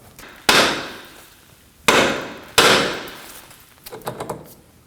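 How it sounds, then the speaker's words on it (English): A hammer strikes the steering knuckle near the tie rod of a 2003-2006 Subaru Baja, giving three loud, sharp metallic bangs, each with a short ringing decay, followed by a few lighter taps. "Now we're going to strike the knuckle right here near the tie rod."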